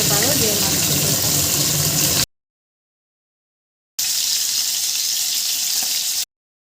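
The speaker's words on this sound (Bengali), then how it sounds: "তেল গরম হয়ে গেছে, এখন মাছ দিয়ে দেবো।" Four pieces of katla fish go into hot oil with a loud, close sizzle and crackle for about two seconds. After a silent break, a softer, steady frying hiss follows.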